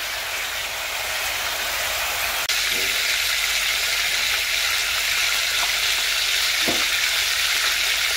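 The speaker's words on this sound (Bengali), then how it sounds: "এর মধ্যে জিরে ফোড়নটা দিয়ে দিলাম" Cumin seeds sizzle and crackle steadily in hot oil, a dense, even frying hiss that fills the whole stretch, with a couple of faint knocks partway through, while chicken posto is being cooked.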